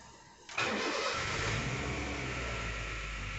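A Honda City car engine cranks and catches with a sudden loud onset, then settles into a steady, close idle hum with no talking.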